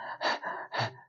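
A voice imitating a lion or dog panting with its tongue out: two quick, breathy pant cycles, close and clear.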